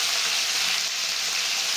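Pieces of fish oil fry in hot mustard oil with a loud, steady, close hiss and crackle that never lets up.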